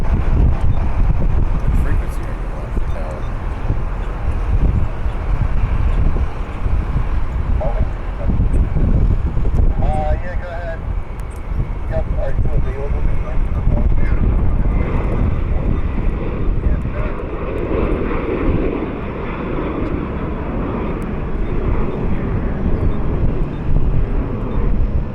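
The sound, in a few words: Southwest Airlines plane at Columbus airport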